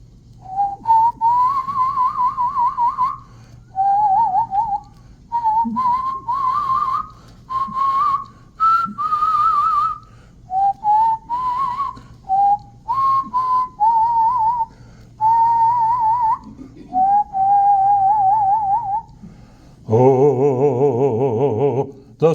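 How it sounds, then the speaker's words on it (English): A man whistles a slow, melodic tune in clear phrases with short pauses between them, close and alone, before singing begins at the very end. "I'll whistle a little bit first."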